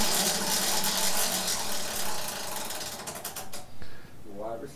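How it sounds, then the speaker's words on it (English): A prize wheel spins with a rapid, continuous ratcheting click that gradually slows and thins out toward the end. "Mr. Snoop Ron Miller, a.k.a. Miller Time, spin the wheel."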